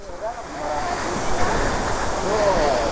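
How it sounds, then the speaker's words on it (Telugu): A full waterfall pouring off a hill: a continuous, broad rushing roar fills the scene at close range, with a voice faintly present beneath it. "ఇప్పుడు ఈ వాటర్ ఫాల్ చూసేయండి"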